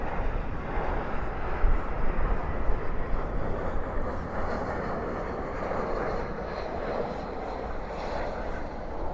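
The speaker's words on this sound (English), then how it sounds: "This is a United flight coming in from Denver. Coming in fast." A United Airlines A320 inbound from Denver lands fast at night at Dallas Fort Worth airport, giving a broad, steady roar of engine and airflow that swells slightly early on and then holds at a moderate, even level.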